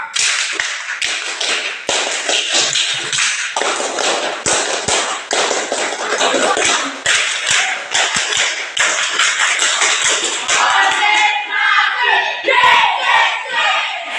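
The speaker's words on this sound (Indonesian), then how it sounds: "Tepuk tangan untuk semua" A group of people clapping together in a classroom or workshop setting, dense, continuous applause with many overlapping hand claps, loud and steady throughout.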